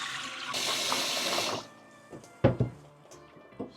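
Water poured off rinsed rice during washing, a sloshing pour for about a second and a half, then a few brief knocks and splashes as the pot is handled, close by in a home kitchen.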